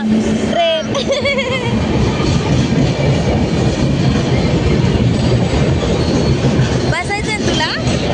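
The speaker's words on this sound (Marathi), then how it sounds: "ट्रेन आली." A train rolls through Nashik Road railway station, a loud continuous rumble with rhythmic clatter of wheels on rails and brief squeals, close by, while people talk nearby.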